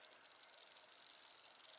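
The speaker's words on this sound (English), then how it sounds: "It's some kind of grasshoppers or cicadas. They are everywhere." Insects, grasshoppers or cicadas, buzzing steadily in a high-elevation volcanic park around 8,000 feet, a faint continuous hiss-like drone with no pauses.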